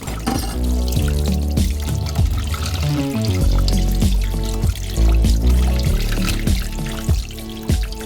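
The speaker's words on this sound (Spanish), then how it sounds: "lo enfriamos bajo agua fría del grifo para pelarlo fácilmente" Cold tap water runs over a blackened roasted red pepper in a kitchen, a continuous pouring splash heard under prominent background music.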